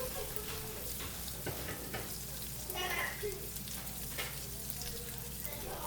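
Sausage browning in a pan for gravy, an even, continuous sizzle of hot fat with occasional stirring clinks, fairly quiet and close, no talk.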